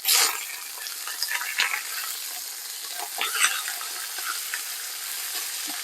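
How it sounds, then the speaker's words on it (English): Lamb sizzling in a frying pan after being flipped, a steady bright hiss with small crackles and a louder burst at the start, close up with no speech. "Our lamb is so sizzly."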